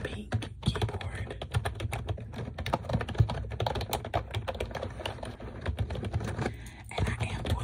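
Someone types steadily on a pink computer keyboard, with dense, rapid clacking keystrokes close up and brief pauses between bursts.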